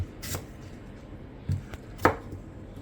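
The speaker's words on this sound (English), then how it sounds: "So now that we finish cut up our vegetable" Vegetables being chopped for radicchio, cucumber and lemon or lime juice, giving a few separate knife strikes against a board, two of them sharper and louder, spaced well apart over a low steady background.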